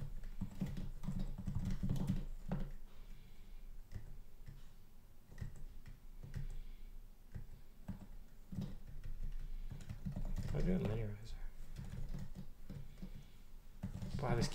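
Steady typing on a computer keyboard fills the stretch, with quick clicky keystrokes in irregular bursts heard close up, and a voice murmuring intermittently underneath.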